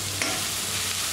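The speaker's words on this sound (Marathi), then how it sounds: "आता मी इथं 2 मीडियम साईजचे कांदे कट करून घेतलेत, ते मी यामध्ये टाकून घेणार आहे." Chopped onions hiss and sizzle continuously in hot oil with bay leaf and cardamom, a loud close frying sound with a brief stir clatter and no talk.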